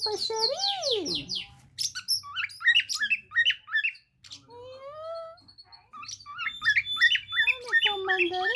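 A pet zebra finch calls at close range with repeated sharp squawks, chirps and short nasal notes in uneven bursts, broken by a brief quiet pause, with no talking over them.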